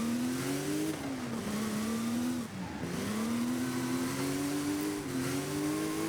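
A modern race car in Forza Horizon 5 with weak brakes and poor tires drives hard, its engine droning steadily and sliding in pitch as it lifts off and reaccelerates, with a brief dip near the middle.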